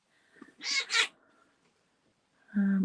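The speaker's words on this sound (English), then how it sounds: "Cat's not happy." An unhappy cat gives a drawn-out double meow in a quiet room, then a lower, louder yowl follows after a pause.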